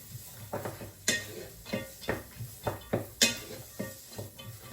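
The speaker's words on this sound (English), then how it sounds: "Right, give that a little stir so the onions are softened down." Softened onions for a sofrito, the base of a lentil shepherd's pie, are stirred in a pan, with a series of close, irregular scraping and clinking spoon strokes over a faint sizzle and no talk.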